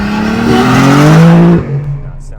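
A loud Nissan 300ZX engine with a full 2.5-inch stainless exhaust revs up hard with a rising, raspy exhaust roar, then drops off abruptly into a lower rumbling idle.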